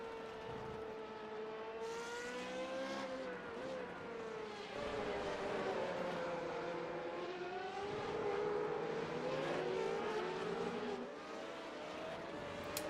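Race cars accelerate onto a restart at the Homestead-Miami Road Course, several engines droning together with rising and falling pitch as they shift and pass. The sound is loud and steady throughout, with no voices.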